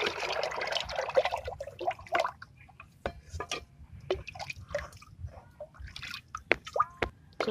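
Rice starch water, boiled rice gruel for an organic plant pesticide, being stirred into five litres of water in a ten-litre bucket: a series of close, irregular drips, splashes and sloshing sounds.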